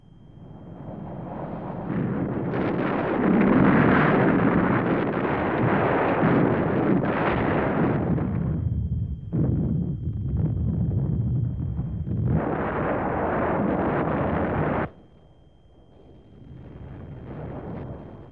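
Heavy explosions and sustained roaring blasts from the bombing of the Monte Cassino abbey in wartime, long loud rumbling bursts separated by brief drops, broadband and continuous like archival war footage.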